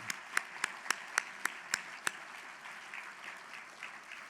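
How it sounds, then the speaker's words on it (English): At an agricultural awards event, an audience applauds past award recipients, starting with a handful of crisp, separate claps before settling into quieter, sustained group clapping that fades a little toward the end. "Let's give these industry leaders a round of applause."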